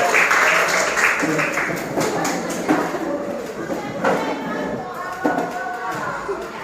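Group of students clapping hands together in a classroom, a dense burst of claps near and loud at first, then thinning, with voices talking and murmuring throughout.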